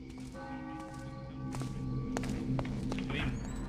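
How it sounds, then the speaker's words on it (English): Bell ringing in the 1998 stealth game Thief, mission Undercover, steady sustained metallic tones with a low hum, joined by soft taps and footstep-like thuds, moderately quiet. "Ooh, the bell. That's a nice bell. That's a handsome bell."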